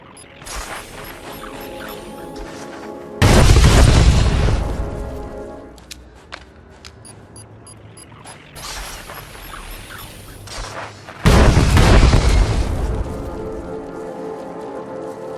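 Two heavy orbital strikes hit cannon positions in Star Wars: The Old Republic, each a sudden loud booming blast with a roaring tail, separated by quieter mechanical clanks and ambient rumble.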